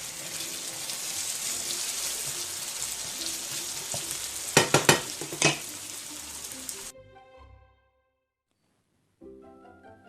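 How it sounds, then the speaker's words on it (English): Cubed potatoes fry in a pan for a frittata, giving a steady, close sizzle with a few sharp scraping stirs near the middle. The sizzle cuts off abruptly, leaving near silence before a faint clatter returns at the end. "Okay, the potatoes are nice and fried."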